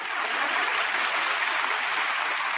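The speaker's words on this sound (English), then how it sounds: "Let's give her a round of applause for that one." Steady round of applause from a small group, clapping dense and continuous at an even level throughout, with no voices over it.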